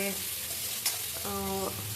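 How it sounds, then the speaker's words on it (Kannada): Hot oil sizzles steadily close by as cumin, green chillies and curry leaves temper in it, with a brief ringing tone partway through. "ಕರಿಬೇವಿನ ಸೊಪ್ಪು ಎಲ್ಲ ಹಾಕಿ ಒಂದು ಸತಿ ಚೆನ್ನಾಗಿ ಕುರ್ಕೊಳ್ತಾ ಇದ್ದೀನಿ"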